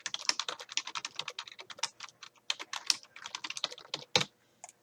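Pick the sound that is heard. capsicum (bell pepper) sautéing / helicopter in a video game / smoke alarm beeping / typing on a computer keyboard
typing on a computer keyboard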